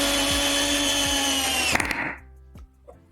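A power drill, its bit lubricated with WD-40, whines steadily at high speed, then winds down and stops, followed by a few faint clicks and taps.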